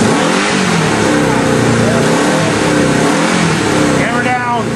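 A go-kart engine revs hard and steadily during a burnout in a shop, loud and continuous throughout with a rising whine near the end, while voices talk and cheer over it.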